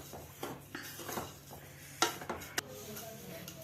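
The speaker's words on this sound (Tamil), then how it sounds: "மிக்சியில் நம்ம அரைச்சி பொடிச்சு வச்ச சர்க்கரையை அந்த சூடாக போட்டு பிரட்டிக்கணும்" Powdered sugar being stirred into warm roasted semolina for rava laddu, a few soft scraping and clinking strokes of a spoon against a pan, close and quiet, with a couple of sharper knocks.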